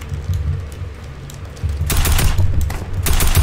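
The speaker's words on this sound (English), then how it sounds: "I'm shooting a little at you, Jacob" Fortnite gunfire: a low rumble gives way to sharp bursts of rapid shots in the second half, loud and close, with no voices.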